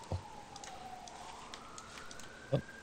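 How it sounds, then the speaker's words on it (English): A distant emergency siren wails faintly in the background, its pitch slowly sliding down and then rising again, with a couple of brief soft knocks nearby. "Nothing like the sound of sirens in the background."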